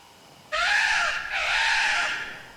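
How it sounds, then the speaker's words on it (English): A crow caws loudly in the horror video game Death Mark, two long harsh calls in quick succession with a brief dip between, standing alone over a quiet background. "Birds. Just the sound of a bird."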